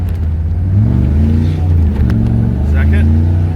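A Chevy K2500 pickup with a 6.5 diesel accelerates hard in first gear, its deep engine drone rising steadily and loud and close throughout, with a voice briefly speaking over it.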